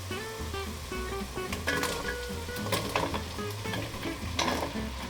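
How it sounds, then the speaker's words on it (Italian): Food browns in a pan with a continuous sizzle and frying crackle while someone stirs it, giving a busy and fairly even texture throughout. "La facciamo rosolare finché non diventi dorata"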